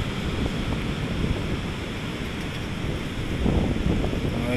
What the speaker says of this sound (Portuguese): Hoje a maré já tá batendo bonito aqui.